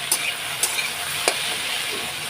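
Potato pieces dusted with turmeric fry in a pan with a constant close sizzle, broken by a few quick scraping stirs.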